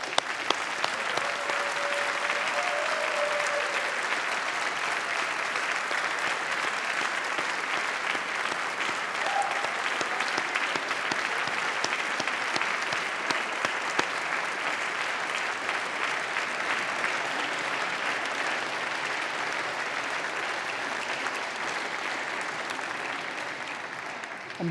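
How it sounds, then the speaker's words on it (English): A large audience at a University of Manchester graduation ceremony applauds steadily and loudly for the whole stretch, a dense sustained wash of clapping with no voices over it. "we'll give you one final applause and congratulations for all that you have achieved today"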